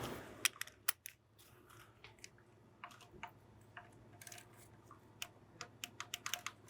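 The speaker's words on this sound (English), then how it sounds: "grab our torque wrench and just torque it down to 25 Newton meters" A torque wrench tightens a fastener to 25 newton meters on a 2011-2016 BMW 550i F10 with N63 V8, faint quick ratcheting clicks in short irregular bursts, with sharper taps near the end.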